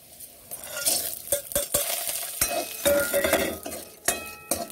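Homemade urad dal badi frying in oil in a pan for a moringa leaves dish, a crackling sizzle broken by repeated clinks and scrapes of a stirring spoon against metal, close and fairly loud, with no voices.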